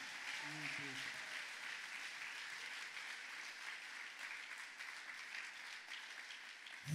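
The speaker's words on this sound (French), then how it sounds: "Come and give a big hand for the living God" A church congregation applauds steadily and loudly for the full stretch, a dense crowd clapping with a brief voice in the background near the start.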